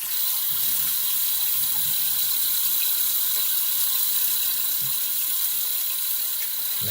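Steady running water from a tap rinsing a Dovo straight razor, close and continuous, with faint clicks of the blade under the flow.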